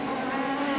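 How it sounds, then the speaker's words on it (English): A 1997 IndyCar CART race car at the Portland 200 accelerates gently on a wet track, its engine a steady, loud, close drone with no break across the short burst. "Gently on the throttle to bring the car up to speed"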